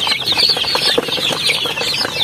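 Native farm chickens cluck in a close, busy chorus, overlapping short calls repeating steadily and loudly with no talking.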